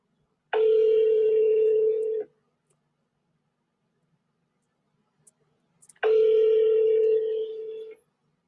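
Two long ringback tones on an outgoing telephone call, each lasting about two seconds with a silent gap between them, clear and steady through the handset with no talking.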